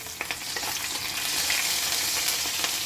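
Whole cardamom, cinnamon and cloves sizzle in hot oil and ghee. The frying is a steady, close, broadband crackle with small pops through the whole stretch, with no one talking.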